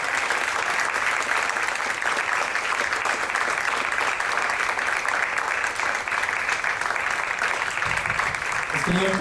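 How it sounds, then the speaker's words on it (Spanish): An audience at a Latin jazz concert at the Museo de Antropología de Xalapa claps in sustained, even applause that holds steady throughout without a break. "Por favor, vamos a darle un fuerte aplauso a Raúl y a todos los músicos"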